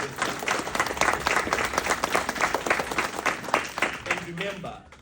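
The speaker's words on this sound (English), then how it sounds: "clap hands for yourself" Audience members clapping for themselves at a Taiwan public-speaking competition, a dense sustained round of applause throughout, fading near the end as a voice begins speaking.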